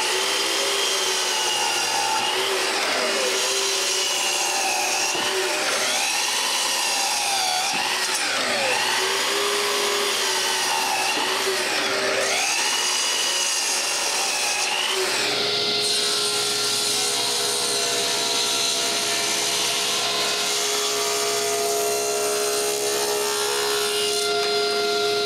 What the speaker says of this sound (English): I need to cut the excess wood on all the frames